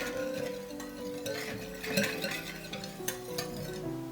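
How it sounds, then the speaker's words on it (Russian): A spoon stirring yeast, sugar and vanilla sugar in a bowl, soft scraping and swishing with a few light clinks against the dish, close and fairly quiet. "И все хорошо смешиваю."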